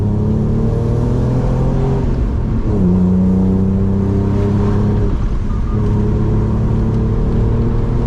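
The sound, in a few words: BMW E46 Ci engine revving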